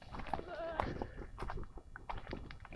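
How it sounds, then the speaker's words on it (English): A goat bleats a couple of times on a farm, short wavering cries close by amid rustling, footsteps and a woman coaxing the herd. "She's a good goat."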